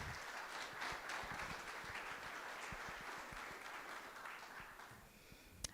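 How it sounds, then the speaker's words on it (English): A graduation ceremony audience at a guide dog school applauds a graduating class, producing steady, fairly distant clapping that holds evenly for several seconds before tapering. "So let's give them all a round of applause."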